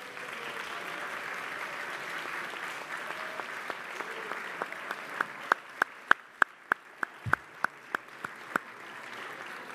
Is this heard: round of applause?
yes